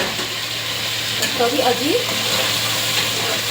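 Onions for kebab fry in a pot with a dense, steady hiss and sizzle, close and continuous, while a voice speaks briefly over it.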